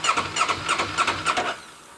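A motorcycle with a newly fitted battery is cranked by its starter, giving a rhythmic whirring churn of about six pulses before it fades out, close and fairly loud with no speech.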